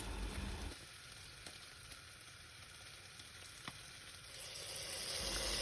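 Spinach stems frying with sautéed onion in a pot for a sour spinach stem soup: a steady soft sizzle with occasional sharp crackles and pops, swelling louder toward the end.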